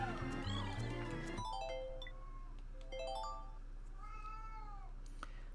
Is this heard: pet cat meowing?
yes